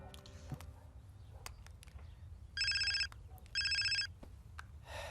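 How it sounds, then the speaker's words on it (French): An incoming call makes a phone ring in two electronic trilling bursts, each roughly half a second long with a short gap between them. The rings sound fairly close over a quiet indoor background. "T'as un appel."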